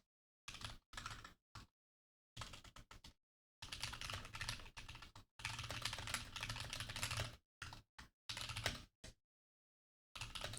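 Close typing on a computer keyboard comes in bursts of rapid clacking keystrokes separated by short silent pauses, with no talking.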